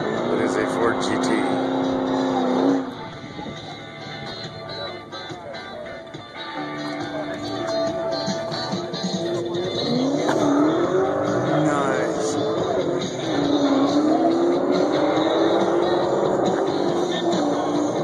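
A Ford GT sports car drives close by, its engine note rising and falling in loud revving sweeps with a steady rumble underneath, and voices can be heard around it.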